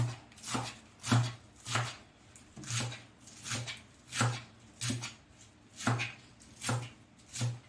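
A knife chops leafy greens on a board in steady, evenly spaced strokes, about a dozen crisp close cuts with no talking.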